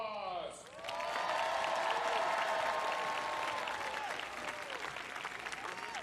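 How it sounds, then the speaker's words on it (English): Crowd applause at an outdoor National Christmas Tree lighting event, swelling in after a brief pause into loud sustained clapping with cheers and whoops on top, then easing slightly toward the end. "and applause"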